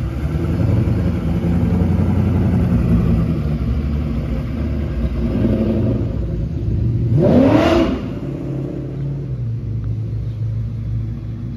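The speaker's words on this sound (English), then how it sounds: "Just want to let you guys see the car cruising." A 1967 Chevrolet Nova with a 427 small-block V8 cruises past, its steady low exhaust rumble swelling briefly as it comes closest and then settling back to a constant drone, with no talking.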